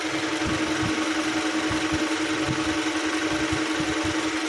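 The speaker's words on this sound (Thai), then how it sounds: "เดี๋ยวเรามาฟังเสียงเครื่องกันสักหน่อยแล้วกันเนาะ" A stock 2009 Toyota Camry 2.0G with a factory 2000cc 16-valve VVTi four-cylinder engine idles steadily, giving a smooth, even low rumble with soft regular pulses throughout and no talk.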